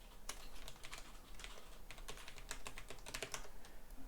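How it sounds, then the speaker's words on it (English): Fingers type a password on a computer keyboard close by, a rapid uneven patter of light key clicks running continuously for about four seconds at low volume. "type in some password"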